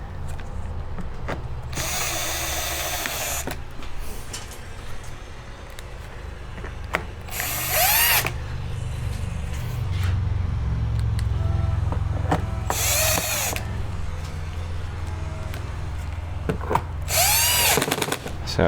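A power drill drives screws into a generator cap in four short, loud bursts spaced a few seconds apart, with quieter workshop handling noise between them.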